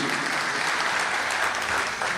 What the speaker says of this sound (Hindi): अपने सौभाग्य पर आप तालियां बजाइए